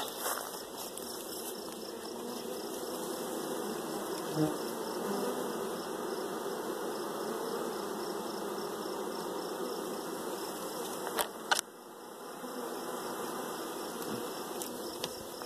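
Honey bees swarm around a small nuc hive in a steady, dense buzzing drone that holds at an even level throughout, broken only by a couple of brief knocks near the end.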